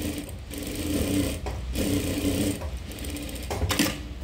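A sewing machine stitches a paithani saree blouse, its steady close mechanical whirr running almost without break and dipping briefly between bursts of stitching, with no voice.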